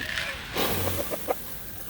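A few short clucks from chickens nearby, brief and scattered, over a faint background hiss.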